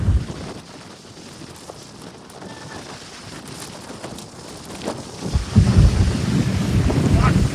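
A boat on open water near Tokyo, with waves splashing against the hull and heavy wind buffeting the microphone, growing louder and rougher toward the end as spray surges.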